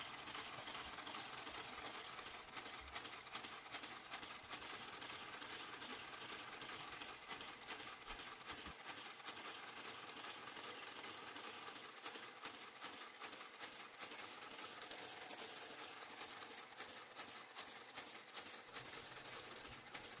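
Knitting machine garter carriage working back and forth across rows, a steady continuous mechanical whirring and clicking that runs throughout at even loudness, with no talk.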